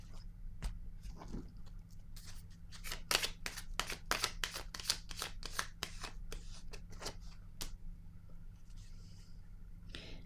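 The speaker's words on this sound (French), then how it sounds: "Je vais piger une autre carte." A card drawn from a deck, quick crisp riffling snaps and flicks in a close quiet room, a dense flurry in the middle tapering to a few soft taps.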